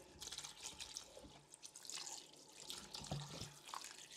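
Cold tap water runs over freshly steamed beets in a sink, a quiet, steady stream with soft splashes and occasional light knocks.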